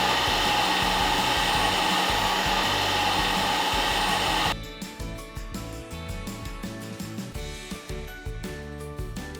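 A blender whirring loud and steady as it blends mutabbal with garlic and salt, cutting off abruptly after about four and a half seconds, followed by quieter irregular clattering and tapping.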